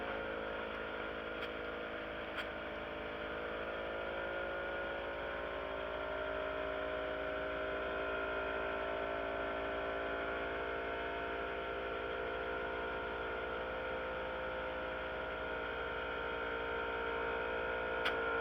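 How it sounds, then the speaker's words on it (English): An air pump inflating a truck tire gives off a steady, unbroken mechanical hum and drone at moderate volume, holding an even pitch for the whole stretch with no voices. "you can see this pump is still working it"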